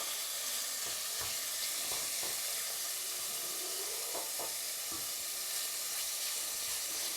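Lean organic beef browning in hot oil in a pot, a loud continuous sizzle and hiss up close, broken by occasional soft knocks and scrapes of a spoon moving the meat.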